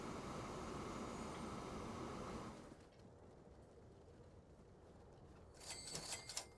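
A coal train in Transport Fever 2 rumbles past for a couple of seconds, then fades to a quiet hum before some faint clanking near the end.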